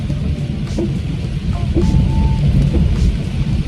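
Rain pours outside with low rumbling thunder, a dense, loud wash of noise throughout with no talking.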